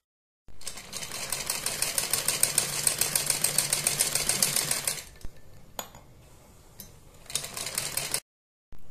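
An electric sewing machine stitching piping onto a sleeve, running in a fast, even mechanical rattle for several seconds, then stopping. A few clicks and handling knocks follow before a shorter burst of stitching resumes.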